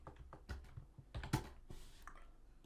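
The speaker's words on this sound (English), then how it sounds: "I mistyped the word again" Typing Java code on a computer keyboard, a quiet run of close key clicks in an uneven rhythm with a few louder, sharper strokes, no speech.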